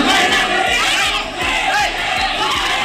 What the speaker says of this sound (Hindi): आंध्र प्रदेश के नल्लोर में भीड़ ने थाने पर हमला कर दिया।